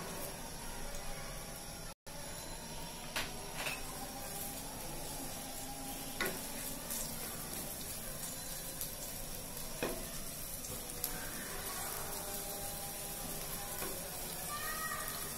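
Sliced onions frying in oil in a pan for Bengali ilish polao, a steady close sizzle with scattered small crackles and occasional stirring taps throughout, no talk.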